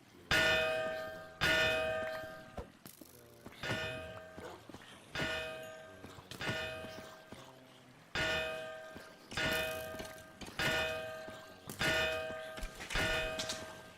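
A bell in a Minecraft-style video game rings repeatedly, about ten bright clanging strikes at a steady rhythm, fairly loud and up close, with faint game sounds underneath.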